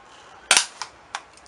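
An airsoft gun fires at a target, making one sharp, loud snap followed by two fainter pops in quick, uneven succession at close range.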